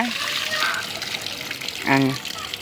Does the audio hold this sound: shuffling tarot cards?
no